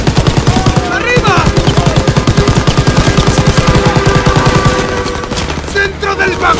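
Rapid, loud machine gun fire in the Call of Duty: WWII campaign, a sustained burst of evenly spaced shots lasting several seconds, then scattered gunfire and shouting voices.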